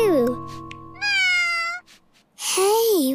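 Cartoon cat meowing in a children's animated show, with several drawn-out, whiny meows, loud and close, separated by short pauses.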